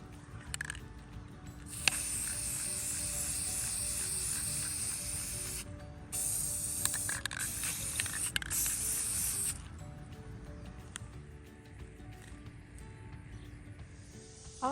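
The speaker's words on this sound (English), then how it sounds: "we're just gonna lay a black spray paint over the whole top of this" Long hissing bursts of black spray paint on wooden wall art, close and steady, with short pauses and the rattle of the can between passes.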